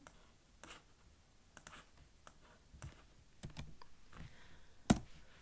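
Keys clack on a computer keyboard while a file is saved with an HTML extension, irregular taps and short bursts close by, fairly quiet, with a louder click near the end.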